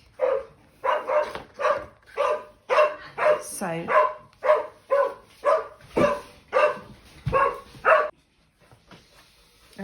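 A passing dog outside a house barks in a steady, rhythmic run of loud, close barks for several seconds, then falls quiet; a voice speaks briefly.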